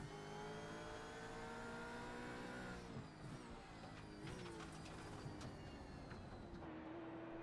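Race car engines of a Mustang and a Camaro in iRacing at Watkins Glen, faint layered engine drones with pitch shifting down as the cars brake for a corner, then a busier revving mix, no talk.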